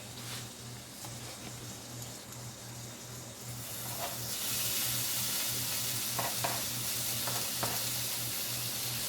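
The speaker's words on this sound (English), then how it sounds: "I'll go ahead and get my bacon in the skillet" Bacon frying in a skillet, a quiet sizzle that swells into a loud, steady hiss and crackle partway through, with a few clinks of utensils and a low hum underneath.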